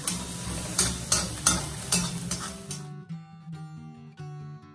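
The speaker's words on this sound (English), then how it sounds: "Saute well for a few minutes." Garlic, green chilies, ginger and curry leaves sautéing in ghee in a kadai, with a run of rhythmic spoon-against-pan stirring clanks over a soft sizzle that gives way to quieter tail sounds.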